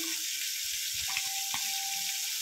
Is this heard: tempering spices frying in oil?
yes